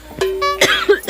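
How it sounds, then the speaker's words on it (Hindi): A person coughs a few short, close bursts from smoke rising off a wood-fired clay chulha stove while cooking on a cold day, harsh and dry with brief gaps between. "धुआं के कारण खांसी आ गए।"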